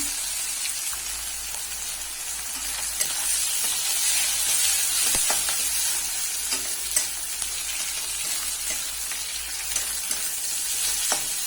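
Chopped onions frying in oil left over from frying puti fish, a continuous close sizzle and crackle with intermittent stirring sounds throughout, no voices.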